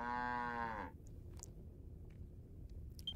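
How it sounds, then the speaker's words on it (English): A cow in Dragon Quest Builders 2 gives a single loud, drawn-out low moo that ends abruptly, followed by quiet game ambience with faint chimes. "I got another cow."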